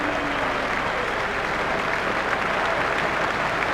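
Steady, dense applause from a cricket stadium crowd in the video game Cricket 2002, a broad continuous wash of clapping that holds evenly loud throughout with no voices over it.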